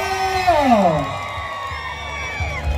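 A crowd cheers and whoops at a retro ramwong dance contest in Ban Bang Sai Noi, Thailand, the loud cheering mixed with rising and falling voices and tones throughout.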